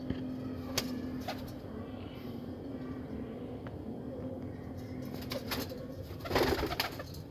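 Pigeons coo softly nearby while a handler shows his birds. Faint, low cooing runs under a steady background hum, with a slightly louder flutter of activity near the end.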